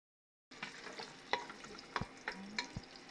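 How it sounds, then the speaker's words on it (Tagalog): String beans are stirred and sautéed in cooking oil, a soft, close sizzle broken by scraping and clinking of a utensil against the pan, starting after a brief silence. "Inuumpisahan na yung sitaw. Igigisa."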